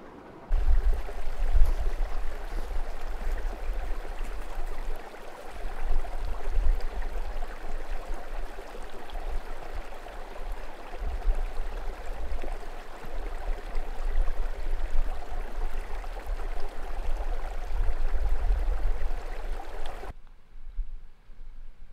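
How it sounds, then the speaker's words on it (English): Water from a mountain creek flows hidden beneath talus rocks at high altitude in Yosemite, a steady muffled rushing hiss with low rumbling that holds for about twenty seconds before cutting off abruptly. "Can you hear that? That's a creek underneath this talus."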